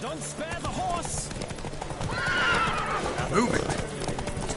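Hooves pound in a fast galloping rhythm with a horse whinnying in a Witcher 3: Wild Hunt horse race, while voices shout over the rushing race noise.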